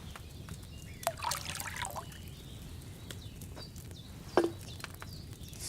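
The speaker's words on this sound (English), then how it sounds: "First, you have to pour the right base into the cauldron." Wine poured from a pitcher into a cauldron in Kingdom Come: Deliverance II, a faint steady trickle under quiet room ambience, with a couple of brief knocks and clinks of the vessels.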